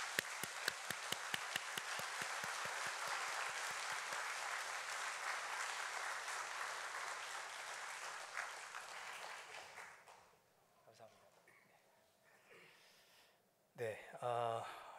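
A Korean church congregation applauds newly ordained officers at an anniversary ordination and installation thanksgiving service: a few steady rhythmic claps swell into dense, sustained applause that fades after about ten seconds, followed by quieter room noise and a brief burst of sound.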